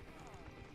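Horse hooves clip-clop at a steady walking pace in the fantasy game Albion Online, faint and brief beneath someone talking.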